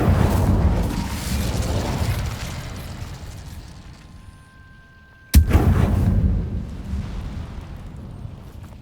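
A fire spell, Incendio, is cast in the video game Hogwarts Legacy, heard as a sudden loud burst partway through, followed by a sustained roaring crackle. A rumbling game background plays before it.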